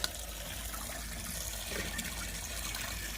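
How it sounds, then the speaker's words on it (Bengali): Potatoes being washed in water while cooking outdoors at a home picnic, heard as a steady, close watery wash and trickle that continues throughout, with no talking. "এখন আমরা যা এখানে আলুগুলো ধুয়ে নিচ্ছি, ভেজে নেবো"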